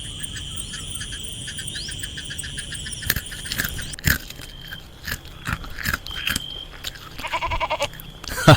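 Goats bleat repeatedly in a rural setting, with several short cries rising over a steady high-pitched background drone and scattered rustling, growing busier toward the end.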